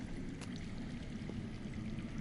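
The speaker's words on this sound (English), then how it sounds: "That's water. I hear water." Underground water flowing in a Game of Thrones video game, a faint, steady rushing and pouring wash with no break, quiet and distant-sounding.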